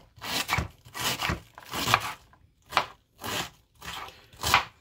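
A knife chops through cabbage for coleslaw on a cutting board, six distinct crunchy chopping strokes in an uneven rhythm, close and clear with no talking.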